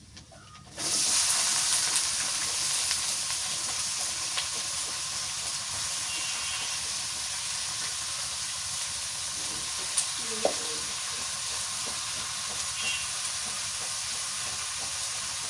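Potatoes and egg frying in a pan start up with a sudden loud, steady sizzle and hiss that holds close and even, with a couple of faint utensil clinks partway through.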